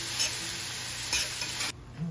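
Stirring a pot of Cajun boudin meat cooking after hours of simmering: a close, steady sizzling bubble with a few scraping stir strokes, and no voices.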